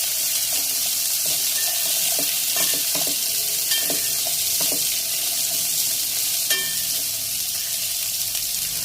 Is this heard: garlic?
yes